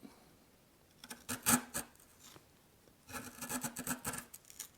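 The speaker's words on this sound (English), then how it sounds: "But I can come in here and pare that out as well." Steel chisel paring waste from a hinge mortise in wood, giving two bursts of short scraping, rasping strokes close up, the second run longer and more even.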